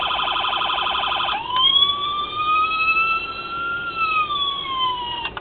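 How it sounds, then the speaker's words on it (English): A four-tone police siren on a custom Sûreté du Québec VW Beetle model shifts from a rapid pulsing yelp to a long, slow electronic wail, clear and continuous with no talk. "But it does have the 4-tone Siren."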